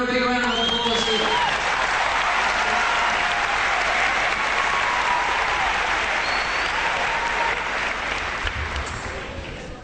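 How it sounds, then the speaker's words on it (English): Loud, sustained applause fills the whole stretch, steady clapping from a large crowd with some cheering mixed in, tapering slightly toward the end. "Give her a big round of applause here."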